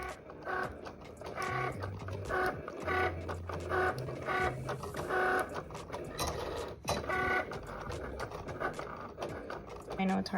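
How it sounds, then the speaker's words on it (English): A Cricut machine cuts iron-on vinyl, its motor whirring in short rhythmic bursts with stepping mechanical tones, fairly quiet, with a person speaking over it. "I'm just gonna have my Cricut start cutting."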